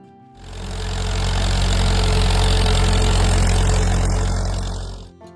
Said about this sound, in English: it was powered by International Harvester's rugged 248 cubic inch 4-cylinder gasoline engine